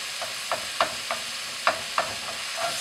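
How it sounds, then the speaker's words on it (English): Tomatoes stirred in a pan for a black pepper chickpea curry: a spoon scrapes and knocks in several short, distinct strokes over a soft sizzle, close and fairly clear with no talking. "So just give that a good stir."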